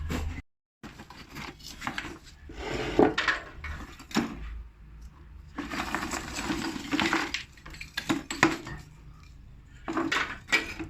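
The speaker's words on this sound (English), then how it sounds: "So we are putting charcoal inside the jiko" Lumps of charcoal clatter and clink as they are dropped into a jiko charcoal stove, with bursts of woody rattling and scraping that come and go, close by, with no talk.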